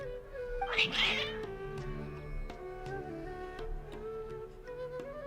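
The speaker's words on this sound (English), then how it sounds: "Your cats seem pretty worked up." Cats yowl and meow in the Genshin Impact video game, one strained cry standing out early over soft game music with ticking, and the agitated calls continue more quietly afterward.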